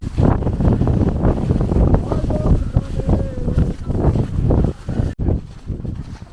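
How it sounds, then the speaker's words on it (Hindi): Strong, gusting wind roars into the microphone on a slippery hilltop at Azerbaijan's mud volcanoes, loud and continuous, with a brief dropout near the end and a voice faintly underneath. "और ऊपर बहुत ज़्यादा विंड है।"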